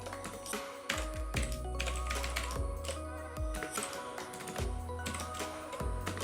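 Someone types Python code on a computer keyboard: a continuous, close clatter of key presses with a few heavier thumps, like the space or enter keys, and no talk.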